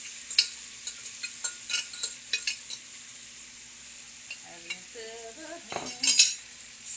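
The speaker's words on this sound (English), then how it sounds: "let's go ahead and put our spaghetti in there. Our squash spaghetti." Spaghetti squash strands go into a pan and get stirred, giving soft scraping and clinking of a utensil over a faint steady sizzle, with a few louder clacks toward the end.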